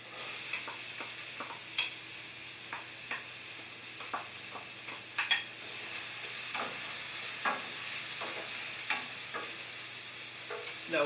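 Eight garlic cloves, two chopped celery stalks and a purple onion cook in a pan with a soft, steady sizzle punctuated by frequent light clicks and scrapes of stirring, fairly quiet and close.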